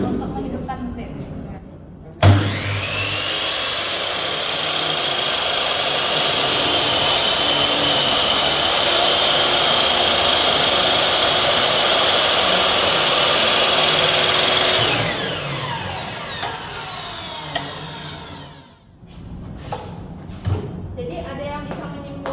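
A machine in a building-engineering teaching workshop switches on with a sharp click and runs with a steady, loud whirring roar for about thirteen seconds, then winds down. Voices talk faintly around it.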